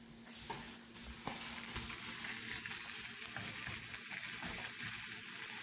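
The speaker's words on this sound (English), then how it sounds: "let's check our onions and red peppers that are sauteing in the pan." Onions and red peppers sauté in a pan, a dense, even frying hiss that holds steady throughout with a few faint stirring knocks, no voices.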